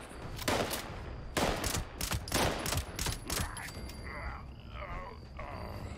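Assault rifle bursts from the Sturmgewehr in the video game Fallout 76, several rapid loud volleys in the first three seconds, then quieter scattered shots and game noise fading out.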